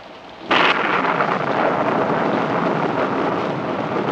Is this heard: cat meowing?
no